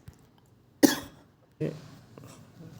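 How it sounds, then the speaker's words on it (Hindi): A woman coughs indoors, one sharp harsh cough followed by a second, softer throat-clearing cough, close to the microphone against a quiet background. "खांसी आ जा रही है।"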